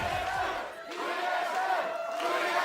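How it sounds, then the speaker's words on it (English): Esports arena crowd at a 2017 NA LCS Summer League of Legends match between Immortals and Team SoloMid, chanting for TSM in a loud, rhythmic, sustained roar that swells and dips across a few seconds. "I feel like that chant will get much louder"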